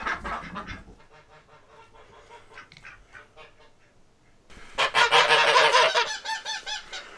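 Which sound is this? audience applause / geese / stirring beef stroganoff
geese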